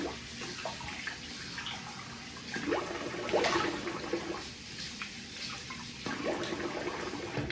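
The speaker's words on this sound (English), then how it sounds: "I'm gonna rinse the face here." Water from a sink tap splashes in repeated bursts as a face is rinsed, close and fairly quiet, with the sound rising and falling in separate handfuls and no speech.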